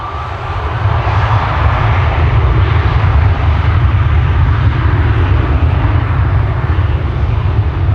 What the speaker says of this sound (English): We have a 787-10 Dreamliner to Mumbai in the background, and in the foreground an A321neo for Pegasus, which is going to Istanbul